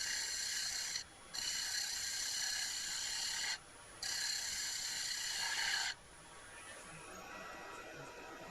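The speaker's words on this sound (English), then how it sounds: "Here I'm using the spindle gouge again to really try and expose some of the oak from the underside." A spindle gouge cuts the underside of an oak segmented bowl spinning on a wood lathe, giving a steady, loud scraping hiss in three long passes with brief pauses between them, then a quieter hum of the lathe running on its own.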